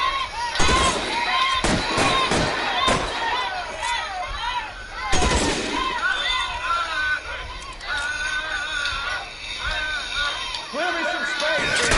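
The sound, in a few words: gunfire in a shootout, video game L.A. Noire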